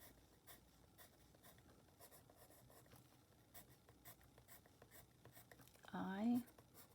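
Pen scratching on paper while writing in purple, soft faint strokes in an irregular rhythm, with a brief louder sound near the end.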